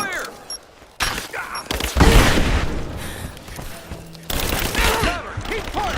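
Gunfire erupts in a firefight in the video game Rise of the Tomb Raider, with repeated loud bursts and booms close by while soldiers shout commands over the shooting.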